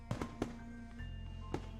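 Fireworks exploding in the Katawa Shoujo video game: a series of distant sharp pops and bangs over a low steady rumble, faint and spaced irregularly.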